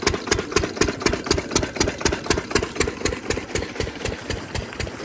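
An engine idles steadily, its regular rapid thumping pulses repeating evenly throughout at a fairly close, moderate level with no talk.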